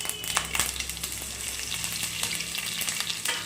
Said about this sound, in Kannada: ನಾನು ಒಗ್ಗರಣೆ ಹಾಕ್ತಾಯಿದ್ದೀನಿ ಸ್ವಲ್ಪ ಫ್ರೈ ಆದಮೇಲೆ